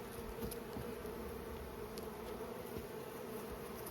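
Honeybees shaken off a hive frame make a dense, steady buzzing hum close by, fairly quiet and continuous with faint knocks mixed in.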